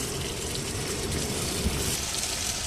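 Water splashes into frying onion, tomato and spice masala for a curry, a soft continuous gush and sizzle heard alone at low level.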